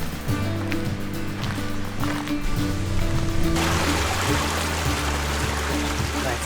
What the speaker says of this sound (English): I love these clear mountain streams.